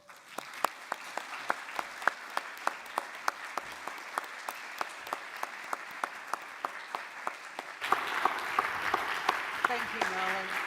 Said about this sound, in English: perhaps we can applause